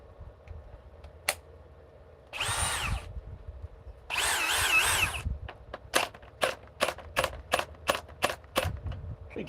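Power drill running in short bursts: two long whirring runs, then a rapid string of brief trigger pulses, close and loud with little else around it.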